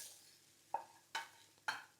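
Three short scraping stirs at a steady pace, a spoon mixing fried onion into meat in a pan, close and fairly quiet with no talking.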